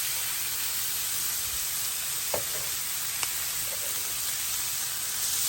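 Onions frying in butter in a pan for beef stroganoff, a steady soft sizzle and hiss throughout with a couple of faint clicks, no voices.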